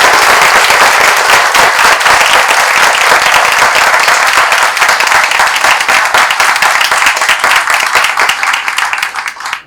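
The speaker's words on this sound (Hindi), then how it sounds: "हमारे नरेश जी के लिए आपको ताली बजाना" An audience at a community gathering bursts into loud, dense applause that holds steady for several seconds before beginning to thin out at the end.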